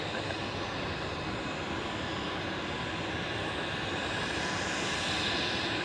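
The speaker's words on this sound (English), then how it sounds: "So now on touchdown is the Miami flight" A jet airliner touches down at Zurich Airport on arrival from Miami, giving a steady, even roar of engines and rushing air at moderate distance.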